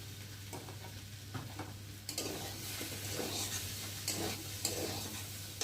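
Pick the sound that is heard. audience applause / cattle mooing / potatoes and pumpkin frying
potatoes and pumpkin frying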